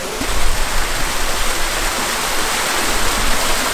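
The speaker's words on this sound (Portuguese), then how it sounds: "Olha só o barulho da água." A steady, loud rush of flowing water at the Botanical Garden in Curitiba, Brazil, like a nearby waterfall or stream, fills the whole stretch with unbroken hiss.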